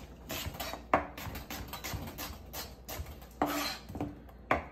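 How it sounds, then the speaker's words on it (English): A knife thinly slices a halved onion on a cutting board for bread and butter pickles, producing a fast series of close, crisp taps and board knocks with a few louder strikes, no talking. "Just cut it in half and just do a nice little thin slice."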